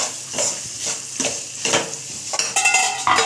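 Carrots fry in a pan with a soft steady sizzle while a spoon stirs them, rhythmic scraping strokes about every half second, close and clear.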